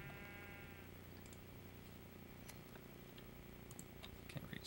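A sheep in a video game gives one short bleat at the very start, followed by steady game ambience with light ticking and clicking noises.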